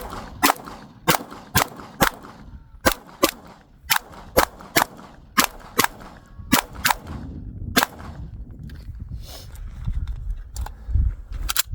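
Kimber KDS9C Rail 9mm pistol fired at a close target, about fifteen sharp, loud shots in uneven groups of two or three, with brief gaps and some background rumble between them.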